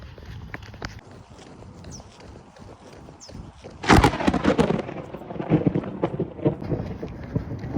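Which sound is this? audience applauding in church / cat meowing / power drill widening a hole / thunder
thunder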